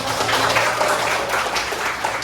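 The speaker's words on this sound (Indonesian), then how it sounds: "Oke, kasih tepuk tangan buat kamu." A classroom of students applauds a classmate, dense overlapping claps forming a steady wash of moderate loudness for about two seconds.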